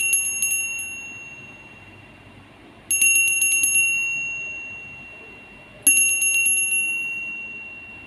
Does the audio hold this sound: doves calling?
no